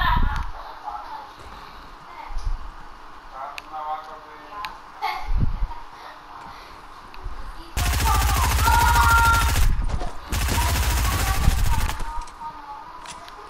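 Rapid automatic gunfire in Fortnite, two loud sustained bursts of rattling shots in the latter half, after quieter footsteps and scattered game sounds, with players chatting over it.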